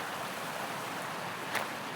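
A river flowing in the hills of Jajarkot, a soft, steady broadband rush heard from a distance, faint and continuous, with one brief brighter splash near the middle.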